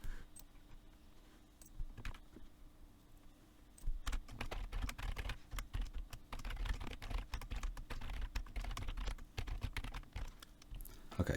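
Someone types code on a computer keyboard, producing quiet, close clicking keystrokes that come in sparse taps at first, then settle into dense, fast bursts.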